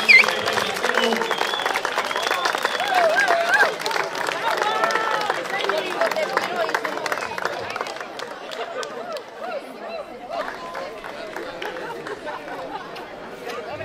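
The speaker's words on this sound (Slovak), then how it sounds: "Tak ešte raz veľký potlesk pre víťazov." At a 2024 Batizovce pierogi contest, the crowd claps for the winning teams while lively chatter and voices carry over the applause, which thins out and grows quieter in the second half.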